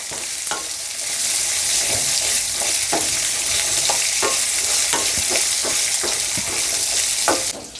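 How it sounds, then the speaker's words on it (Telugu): Small-chopped onions fry in a pan for a tomato chutney, a steady loud sizzle filling the whole stretch with a dozen sharp scraping stirs of a spoon at irregular intervals; no talking. "ఈ విధంగా చిన్న చిన్నగా కట్ చేసేసుకొని వీటిని వేపుకుందాం"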